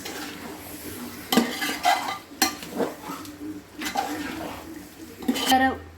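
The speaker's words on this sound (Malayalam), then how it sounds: "അരപ്പുമായിട്ട് ഇതൊന്ന് മസാലയായിട്ട് ഈ ബീഫൊന്ന് പരട്ടെ കേട്ടോ" Beef worked through masala paste in a pot for beef curry, with a soft frying sizzle and several clanking scrapes of a spoon against the metal, close by, while a voice talks over it.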